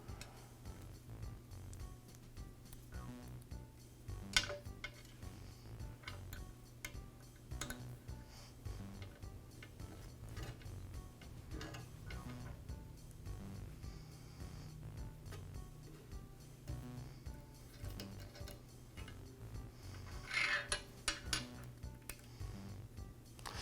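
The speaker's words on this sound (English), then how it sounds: "Now I need to transfer over the clamp screw as well as the set screw." Small metal clamp screw and set screw from a DeWALT scroll saw blade chuck being handled, faint ticks and light metallic clinks scattered over a steady low hum, close but quiet, no talking.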